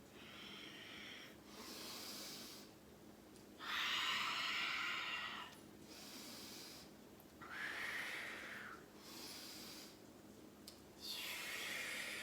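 Slow, deep yoga breaths, each long airy inhale and exhale rising and fading in a steady rhythm, close and fairly soft, with brief quiet pauses between them and no talking.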